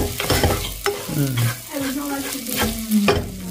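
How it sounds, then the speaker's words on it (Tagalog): Leftover rice stir-fried in a pan, steady sizzling with scraping spatula strokes at irregular intervals, close and fairly loud, with a few brief spoken words. "Ayan, fried rice."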